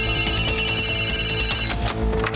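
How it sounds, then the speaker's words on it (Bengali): A cartoon telephone rings with a loud, rapid, continuous electronic bell tone, close and alone for about two seconds. "কোন ফোনটা যে বাজছে?"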